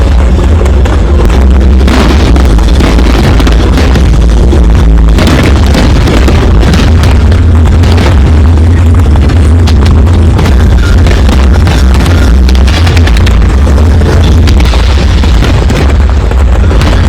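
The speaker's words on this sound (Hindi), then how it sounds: "उसके बाद देखिए जरा अयोध्या में आतिशबाजी, और ऐसी आतिशबाजी जो इससे पहले नहीं देखी।" Fireworks exploding at the Ayodhya Deepotsav festival: a dense, continuous barrage of loud booms and crackling bursts for about seventeen seconds, heavy low rumble throughout, with no talk over it.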